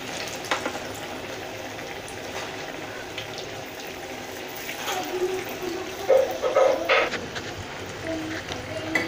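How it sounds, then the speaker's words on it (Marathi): Medu vada, a South Indian lentil fritter, bubbling and sizzling in hot oil as it turns golden on both sides, a steady hiss with brief spits and pops while someone talks over it. "दोन्ही बाजूंनी मस्त असं आपल्याला गोल्डन रंगावर हा तळून घ्यायचा आहे."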